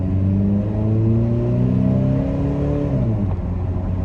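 A Toyota Tacoma pickup's 2.7L 3RZ engine revs up steadily, its intake roaring and rising in pitch, then easing off as gears shift, loud and close.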